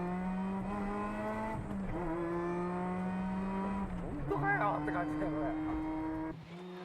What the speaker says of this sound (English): The supercharger pulls the light car all the way through the acceleration.